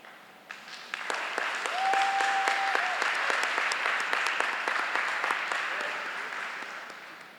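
An audience applauds students at a middle school eighth grade recognition ceremony, steady crowd clapping that swells after a moment and holds evenly to the end, with a brief whistle-like tone partway through.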